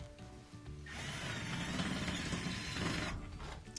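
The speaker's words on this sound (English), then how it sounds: "use the screwdriver to drive it in" A screwdriver drives a Phillips head screw into a GE top-load washer during a lid switch repair, giving a steady, fairly loud grinding and whirring for about two seconds, close by and without talk.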